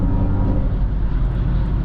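A 687 hp Mercedes-AMG EQE53 electric sedan cruises on the autobahn, heard from inside the cabin. A steady, deep rumble of road and wind noise holds at an even level throughout, with no talking.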